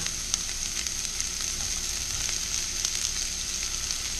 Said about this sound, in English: Going to get our onions in. Get a little sizzle on them.